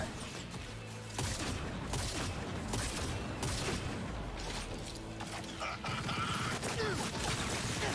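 Rapid bursts of SMG gunfire in Cyberpunk 2077, several sharp repeated volleys close by with loud cracks and booms, interspersed with brief lulls and mechanical clatter.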